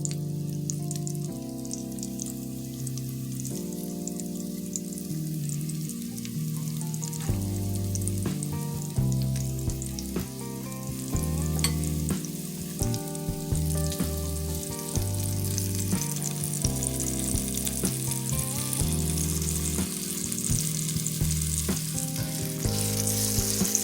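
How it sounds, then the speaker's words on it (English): Stew beef chunks for homemade vegetable beef soup sear in a hot pot, a steady loud sizzle and crackle of frying fat running throughout with no talking. "we're going to let it sear"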